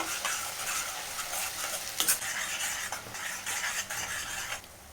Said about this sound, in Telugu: ఇప్పుడు ఈ పేస్ట్ కూడా పచ్చివాసన పోయేంత వరకు అయితే ఫ్రై చేసుకుందాము.